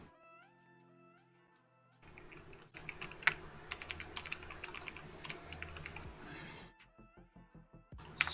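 Fingers type on a computer keyboard in quick, irregular bursts of close, crisp key clicks that last several seconds. Some soft tonal sounds play beforehand, and the clicks thin out into scattered taps at the end.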